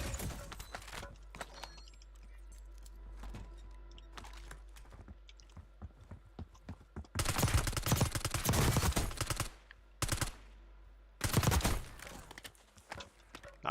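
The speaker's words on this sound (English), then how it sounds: "Not sure why we were shooting at that signpost." Bursts of rapid gunfire from a Call of Duty: Warzone match crack out loudly in several dense volleys, separated by short gaps and preceded by scattered single shots.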